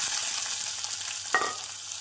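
Chopped onions crackle and sizzle steadily in hot oil with cumin seeds, with a sudden louder hiss and stirring scrape partway through.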